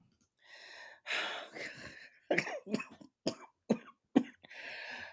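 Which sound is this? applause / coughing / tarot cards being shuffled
coughing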